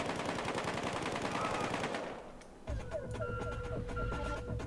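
Sustained automatic gunfire in the shooter game Battlefield Hardline rattles loudly in a dense burst, dies away, then returns as steadier rapid shots mixed with electronic beeping tones.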